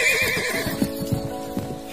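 A horse gives a single loud, close whinny with a quavering, falling pitch, followed by a few soft hoof clops.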